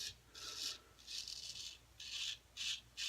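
A razor's first pass through a lather of Talbot Shaving soap: four or five close, crisp scraping strokes, each lasting about half a second with short pauses between, and no voices.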